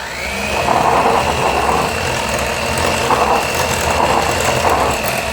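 An electric mixer whirs steadily through cinnamon pecan bun cake batter, its close motor drone pulsing with a rhythmic, slightly grinding churn. No voices are heard.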